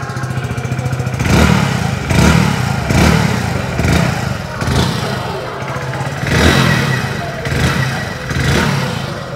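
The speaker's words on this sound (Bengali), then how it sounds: "চলুন আমরা সবাই এই বাইকটির এক্সস্ট সাউন্ড একবার শুনে নিই।" A Hero HF Deluxe 2024 motorcycle engine idles with a steady low exhaust thrum, broken by several short throttle blips that swell and fade at a regular pace, loud and close throughout.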